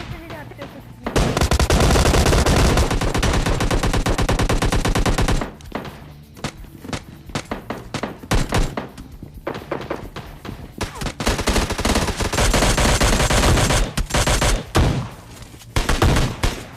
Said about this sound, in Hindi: सामने गनशॉट की आवाज भी आ रही थी और भयंकर गनशॉट की आवाज आ रही थी।